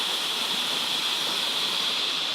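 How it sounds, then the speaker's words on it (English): A steady, dense hiss of rushing water from a waterfall on a bushwalk near Mount Barney, constant and fairly close, with no other sounds. "as you can probably hear, a lovely, beautiful waterfall"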